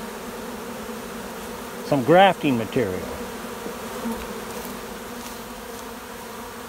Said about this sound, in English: They're buzzing around, crawling around, flying around, looking like they're queenless.